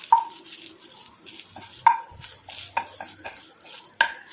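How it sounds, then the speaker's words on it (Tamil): A spatula clinks and scrapes against a pan in sharp, scattered strikes while a few flowers are sautéed, with a faint soft frying hiss between the knocks and no talking. "ஆட் பண்ணிட்டு அதையும் சேர்த்து நல்லா நான் வதக்கி எடுத்துக்கிறேன்"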